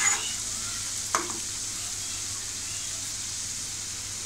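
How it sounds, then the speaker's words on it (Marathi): Onion and tomato with red chilli powder and garam masala sauté in a pan for prawn masala, giving an even, constant sizzle with one quick scrape of a spatula early on. "थोडा आपला कांदा आणि टॅमॅटो स्मॅश होईपर्यंत आपल्याला थोडंसं परतायचं आहे"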